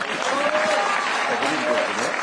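A crowd applauds at a meeting with people living with disabilities in Nairobi City County. The clapping is dense and sustained, and a voice can be heard faintly beneath it.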